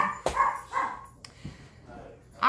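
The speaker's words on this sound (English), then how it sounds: "now my dogs are barking" Several house dogs bark indoors in a few sharp, close yips and barks separated by short pauses, with a louder bark at the very end.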